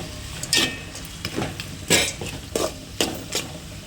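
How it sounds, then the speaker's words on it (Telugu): Green chillies and onions fry in a pan while a spoon stirs them, giving a soft sizzle with a series of sharp scraping strokes at an uneven rhythm. "ముందుగా దొరుకున్న పచ్చిమిరకాయలు, ఎర్రగడ్డలు వేసి వేయించుకోవాలి"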